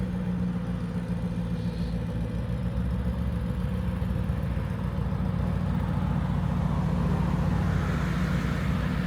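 A car at an Aston Martin dealership idles with a deep, growly engine rumble, a steady low throb that holds evenly without revving and without anyone speaking over it.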